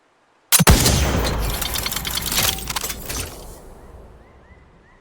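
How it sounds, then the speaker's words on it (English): A single SR Damage plasma sniper rifle shot from The Outer Worlds 2 fires with a sharp, loud crack, then a dense, fizzing tail that rolls and sizzles for about three seconds before fading into a faint trickle. "It's a sniper rifle that doesn't shoot bullets but compressed plasma liquid. Here's a quick preview."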